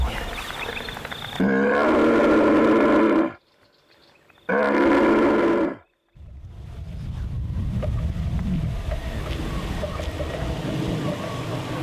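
A red deer stag out in open country gives two long, loud, rasping roars that carry and echo back, followed by steady wind noise on the microphone.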